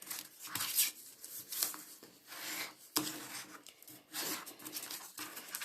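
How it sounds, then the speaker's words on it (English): Bone folder creasing paper for a stamp storage box base, quiet irregular rubbing and scraping strokes close by with a few sharp taps, no talking. "I'm going to go in with my bone folder and give it a good crease"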